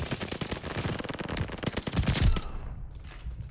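Steady automatic fire from a BAR rifle in Call of Duty Vanguard, loud and close, rattling continuously for a few seconds before cutting off into quieter ambience.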